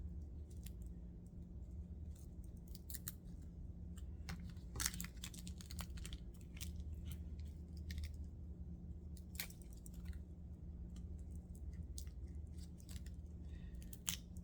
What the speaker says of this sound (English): Sometimes these capsules will stick to the inside of the packing, so sometimes you kind of have to peel them off.